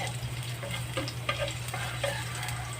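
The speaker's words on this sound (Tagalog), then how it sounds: "Gigisa natin ang bawang." Garlic sautéing in oil makes a brief, steady close sizzle with faint crackles and light stirring, under a low background hum and with no voices.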